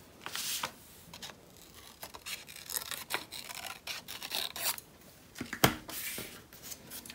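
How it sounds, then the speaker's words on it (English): Scissors snip out a paper circle with a handful of short, crisp cuts and soft paper rustles up close, irregularly spaced with pauses, including one sharper snip near the end. "So I'm going to cut out a circle again."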